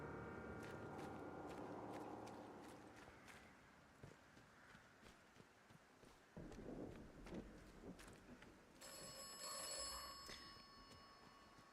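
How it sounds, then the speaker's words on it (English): A telephone rings inside the video game Atomfall, faint and far off under a steady ambient bed with scattered footsteps, a brighter electronic ring rising near the end. "I thought this phone might ring."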